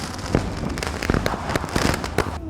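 Canada Day fireworks crackle and pop steadily, with several sharper bangs cutting through a continuous noisy rumble at moderate distance.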